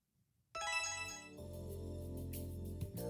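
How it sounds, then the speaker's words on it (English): A phone ringtone chimes in the video game Amnesia: Memories, a bright melodic electronic ring that starts suddenly and keeps going loudly with no talk. "Whoa, the phone is ringing."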